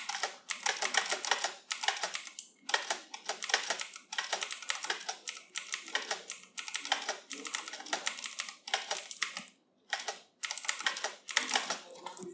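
Rapid typing on a computer keyboard, dense bursts of close, crisp key clicks with brief pauses between runs.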